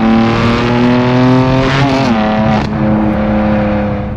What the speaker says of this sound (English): So, as you can hear, this exhaust sounds incredible.